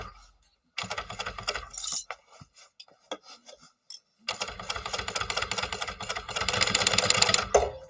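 A sewing machine stitches a fabric gusset in short bursts of a few stitches, with pauses between, then a longer steady run of rapid needle clatter near and clear.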